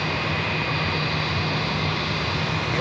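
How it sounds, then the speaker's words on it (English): A JetBlue Airways Airbus A320 arriving at JFK from Tampa, Florida sends out a steady jet engine drone with a faint high whine riding over it, even and sustained throughout with no voices. "It's JetBlue Airways Flight 225 coming in from Tampa, Florida in this A320."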